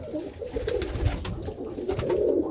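Roller pigeons coo softly and intermittently, a few low murmuring calls close by amid light rustling, with no talk over them.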